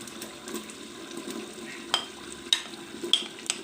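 Carrots go into a sizzling pan, where a continuous low frying hiss runs under several sharp utensil scrapes and clinks spaced about half a second apart. The sound is close-up and nobody talks.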